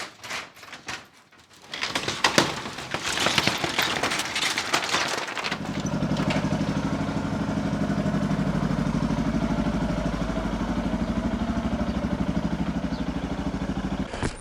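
Motorcycle starting off and riding, engine rising into a steady, fairly loud mid-pitched drone after a few seconds of handling noise and rustle, holding a constant throttle to the end with no talk.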